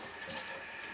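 Running tap water from a faucet, used for washing messy paintball gear with warm water, flowing as a steady broadband rush that holds the same level for a full second, with no talk over it.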